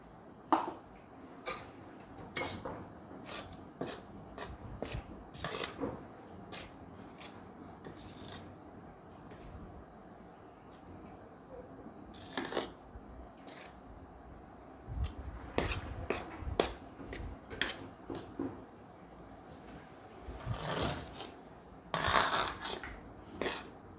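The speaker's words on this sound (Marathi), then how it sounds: "असं छानपैकी पीठ मळून घेऊया" Pumpkin dough being kneaded by hand, heard as quiet close rubbing and squelching strokes in irregular bursts, with occasional light taps against the bowl.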